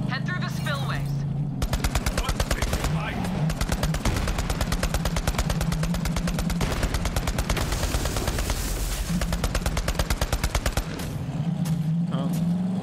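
Rapid automatic gunfire in the Borderlands video game, loud sustained bursts of shots in fast rhythm lasting several seconds, with short pauses and some background game noise.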